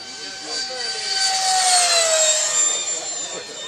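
Model jet aircraft turbine engine with thrust vectoring, hovering at an indoor open house; a steady loud high whine with a pitch that sweeps slightly, continuous throughout, with faint voices underneath.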